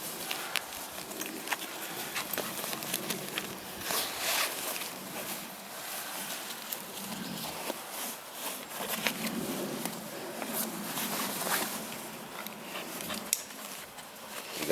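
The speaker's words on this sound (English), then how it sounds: "Again, it's raining" Rain patters steadily on outdoor bushcraft gear and a Bergen rucksack, a dense close-up hiss of tiny droplet taps with occasional louder splats and rustling handling sounds.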